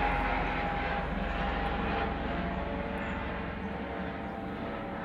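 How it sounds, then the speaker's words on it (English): A low, steady engine drone of a helicopter passing overhead, loud at first and slowly fading as it moves away. "That's the same helicopter from like 10 minutes ago."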